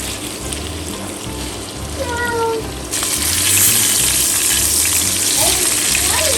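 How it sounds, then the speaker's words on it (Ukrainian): Salmon fillet frying skin-side down in hot butter in a pan: a close, loud, continuous sizzle and crackle that swells sharply partway through and stays steady to the end. "масло добре розігрілося, викладаємо сюди рибу. Спочатку обжарюю на цій червоній стороні"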